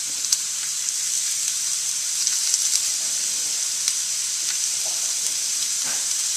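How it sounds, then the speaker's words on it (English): Steady, bright sizzling of courgette frying in a hot pan, continuous throughout with occasional small pops and crackles. "get nice and hot so it sizzles when it goes in"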